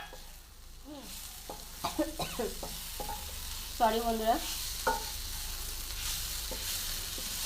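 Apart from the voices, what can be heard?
banana stem frying and being stirred in a pan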